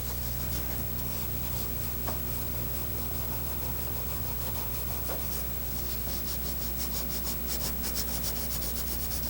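Antique brass is polished by hand, producing a continuous, close, even rubbing hiss with no pauses throughout.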